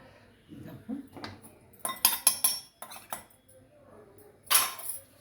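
A spoon stirs powdered sugar into roasted semolina in a metal pan, giving a string of clinks and scrapes in uneven bursts, with one bright, sharp clank near the end and no speech.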